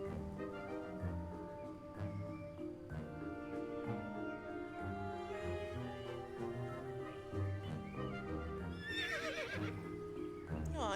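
A horse in the video game Star Stable Online whinnies over a busy in-game soundscape with a music-like bed and clip-clop hooves, and a sharper, shrill neigh breaks through near the end.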